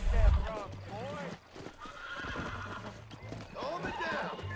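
A horse in the video game Red Dead Redemption neighs and whinnies several times, close and fairly loud, with hoof clip-clops, while someone talks over it.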